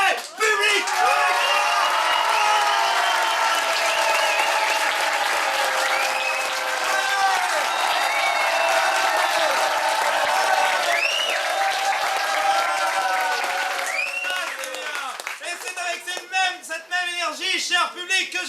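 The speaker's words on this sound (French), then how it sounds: "d'applaudir le plus puissamment que vous n'ayez jamais fait, public!" Audience at an improv cabaret applauding loudly and continuously, with cheers and whoops rising over the clapping before it thins out near the end.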